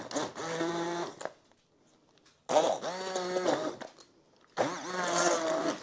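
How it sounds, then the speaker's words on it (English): An immersion blender whirs in apple butter in three separate bursts of about a second each, a loud buzzing motor whine broken by short pauses of near silence. "I'll plug my immersion blender in right here"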